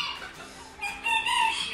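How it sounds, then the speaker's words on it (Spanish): Splash hens with a Lindis rooster at a Mexican gamefowl farm cluck and call close by, with sharper bursts of clucking rising near the end over a steady barnyard background. "Son unas gallinas Splash con un gallo Lindis."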